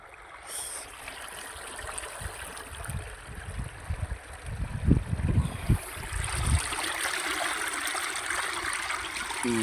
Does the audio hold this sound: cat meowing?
no